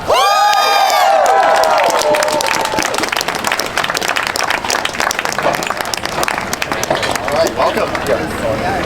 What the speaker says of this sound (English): Governor Tim Walz, everybody. Give him one more hand.